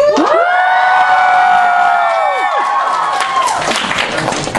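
A convention crowd at a Q and A session bursts into loud cheering, high-pitched screams and whoops with clapping, close and enthusiastic, gradually fading after a few seconds.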